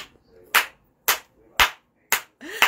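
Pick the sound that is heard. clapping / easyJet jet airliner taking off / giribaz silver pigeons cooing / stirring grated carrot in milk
clapping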